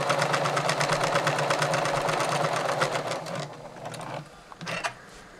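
Domestic sewing machine running a long gathering stitch with the needle shifted right, a steady fast mechanical whir and needle chatter for about three seconds, then slowing and stopping with a few short bursts.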